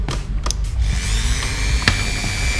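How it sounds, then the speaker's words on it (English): A Dremel rotary cutting tool spins at high speed, its shrill whine running steadily close by under a few short knocks and clicks. "Okay, I got myself my Dremel cutting tool."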